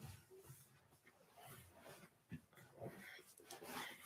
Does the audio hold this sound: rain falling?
no